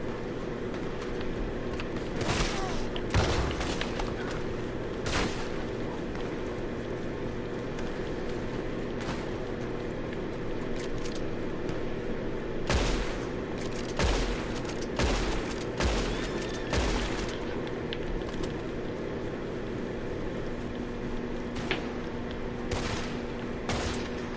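Gunfire in the Red Dead Redemption 2 video game: a volley of loud, sharp shots in scattered bursts over a steady background, with clusters of rapid reports and isolated single cracks throughout.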